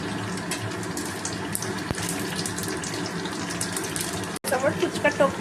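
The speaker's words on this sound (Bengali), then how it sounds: "গরম তেল আমি বসিয়ে দিয়েছি, এবার একে একে ফুচকাগুলো আমি দিচ্ছি।" Homemade fuchka frying in hot oil, a dense, steady sizzle that hisses and bubbles without a break, loud and close throughout, with faint talk mixed in.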